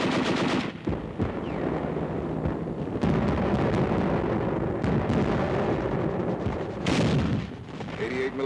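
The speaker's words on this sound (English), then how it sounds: "88mm guns slowed up our landings and imperiled the entire beachhead operation" German 88mm guns firing during the WWII Anzio landings crack and boom in loud, continuous volleys, with rapid gunfire and heavy blasts overlapping throughout the stretch.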